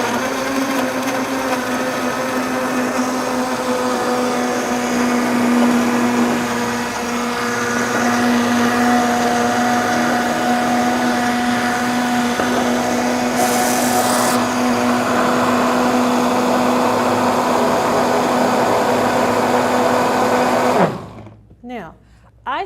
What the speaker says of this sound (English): all you have to do is put it in your Vitamix, if you have one, and blend it up